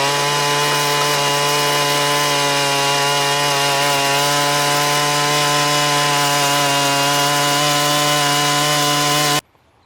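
A motorized post hole digger drilling into hard farm soil, its engine droning loud and steady at close range for nearly ten seconds before cutting off abruptly; no talk.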